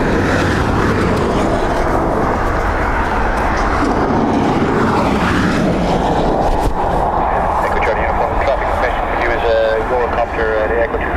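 A British Airways jet departs Dublin Airport for London Heathrow, its engine noise a loud, continuous rumble that shifts in tone, with voices talking over it.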